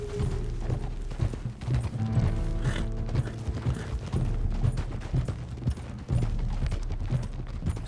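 Horse hooves clip-clop at a steady riding pace in Red Dead Redemption 2, with creaking tack and a low musical drone underneath, moderately loud and continuous with no talk.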